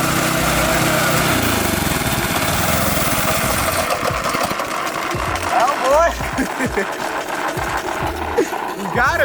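A small mini bike engine buzzes at a high, rattly pitch, loud and close, with its revs rising and falling unevenly as people talk over it outdoors.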